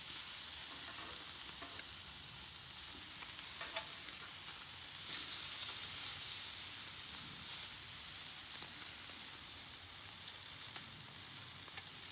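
Salmon fillets sizzle and crackle steadily in a hot pan on the stovetop while they crisp a crust, a constant close hiss with faint scraping and stirring clicks, no talking.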